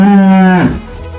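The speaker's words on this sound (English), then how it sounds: "Which animal says moo?" A cow gives one loud, close, drawn-out moo that falls in pitch and fades at the end, heard on its own.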